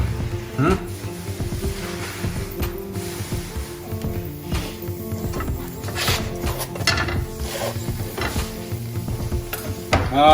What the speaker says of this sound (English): See my paratha is puffing up like a puri